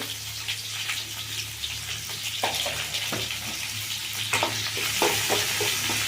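Chopped onions fry in a pan for a moong dal dish, giving a steady, close sizzle with scattered clicks and scrapes of stirring throughout.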